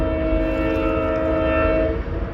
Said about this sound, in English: That train's gonna be noisy for a minute